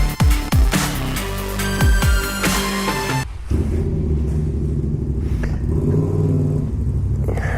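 A DF Goblin buggy driven on a road revs loudly with rapid rising engine sweeps at first, then settles into a steady, close rumbling drone as it cruises.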